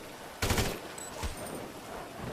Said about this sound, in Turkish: Bu biraz daha ağır bir tabanca abi.